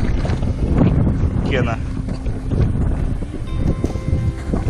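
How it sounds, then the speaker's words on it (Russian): Strong, gusty wind roaring across the microphone outdoors on winter ice in the Northern Dvina delta, with a person speaking briefly over the buffeting noise. "Ветер сильный, порывистый."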